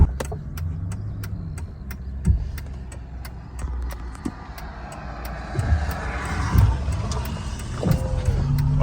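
A freshly installed Mercedes V12 engine idles with a low, steady rumble and is given gentle gas, swelling in a few modest revs, alongside faint metallic clicks and jangles nearby.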